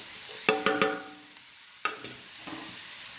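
Grated coconut is stirred into a frying mixture in a pan for an Onam dish. A few sharp spoon clinks and scrapes ring out close, set over a low sizzle.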